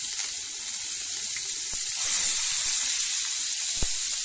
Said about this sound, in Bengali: বরবটিগুলো হচ্ছে যেগুলো কেটে রেখেছিলাম সেগুলো হচ্ছে হালকা হালকা করে ভেজে নেবো